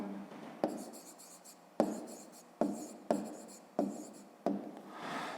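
Pen or pencil writing on paper during a fifth-grade math lesson, a series of six sharp scratchy strokes with short pauses between them, close and fairly quiet, with no talking.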